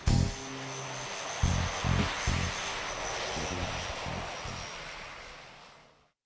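A C-27J Spartan military transport aircraft flies at an air display, its propeller engines giving a steady roar with low rhythmic pulsing that fades gradually as it passes into the distance.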